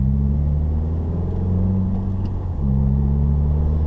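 A 2015 Subaru WRX idles with a steady low engine drone, dipping briefly near the end before the rumble returns, heard up close without talk.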